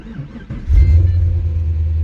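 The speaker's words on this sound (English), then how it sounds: "I still have the simple click start where you just got to turn the key like this" A Pontiac GTO engine cranks briefly with a key turn, then catches and settles into a loud, deep rumble that holds for the final second or so.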